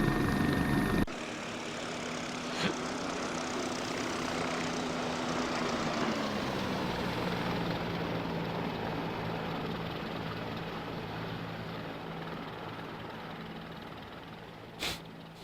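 A helicopter flying a scenic tour over Austria, its steady rotor and engine drone filling the cabin continuously and loudly, with a slowly gliding engine tone and a brief click near the end.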